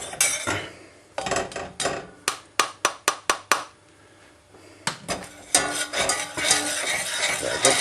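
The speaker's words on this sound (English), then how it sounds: "Get a good stir." A spoon stirs a Kashmiri masala powder mixture into warming oil in a pan over medium heat, making a series of sharp, close clinks and scrapes against the metal in quick irregular bursts, with faint sizzling between.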